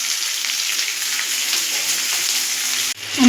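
Onions and soya frying lightly in a pan, a steady close sizzle that suddenly cuts out near the end, followed by a brief rising rush like water or a tap.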